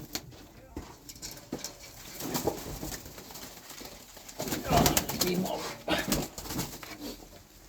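Pigeons coo softly in soft, repeated murmurs under and between a person talking nearby, with some rustling and background noise.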